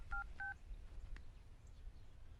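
Two short dual-tone telephone dialing beeps sound in quick succession near the start, followed by a faint click over a low background hum.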